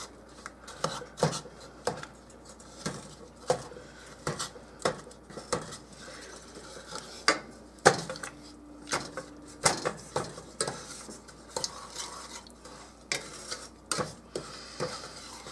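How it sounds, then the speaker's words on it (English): Candy mixture for saltine cracker candy stirred as it melts in a pot, a quiet run of rhythmic scraping and tapping strokes against the pot, close and steady, with no voice. "Just start mixing this."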